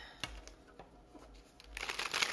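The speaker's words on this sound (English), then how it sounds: "I'm going to shuffle these really good before we clarify gift." A deck of tarot cards being shuffled: soft, quiet papery riffles and taps that grow into a denser, louder flutter of cards toward the end.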